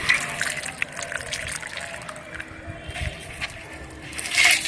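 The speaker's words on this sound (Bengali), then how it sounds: "তারপর পর্যাপ্ত পরিমাণ আমি গাছের গোড়ায় জলটা দেবো" Water is poured onto the soil at the base of a potted Kamini plant, giving a soft, close, continuous trickle and splash throughout, with a slightly louder gush at the end.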